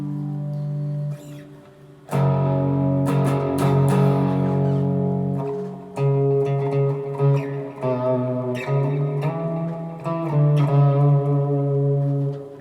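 Clean electric guitar chords and picked notes ring out alone through an Archetype Gojira amp modeler, steady and moderately loud, with no distortion.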